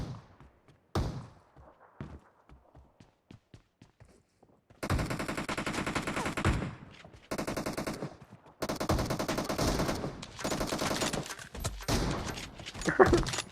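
PUBG Mobile gunfire, with scattered single shots early, then long dense bursts of rapid automatic fire and heavy shotgun blasts, loud and close, continuing almost without pause for several seconds.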